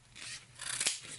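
Scissors snip through a pilot ejection harness strap for an X-Wing costume, a short close crunching cut with light rubbing of fabric, alone without talk.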